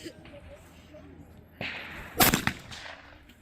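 A single shotgun blast fired at a clay target during youth trap shooting, one sharp loud crack followed by brief echo, with talk around it.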